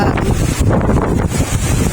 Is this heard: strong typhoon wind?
yes